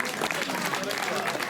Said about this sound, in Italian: che gli venuto un applauso